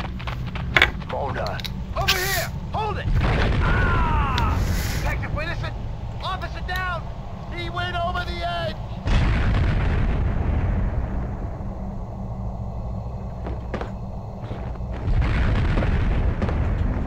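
Gunfire and explosions in the video game Max Payne 2: The Fall of Max Payne, with loud bursts and booms over a steady rumbling background, interleaved with voices talking throughout.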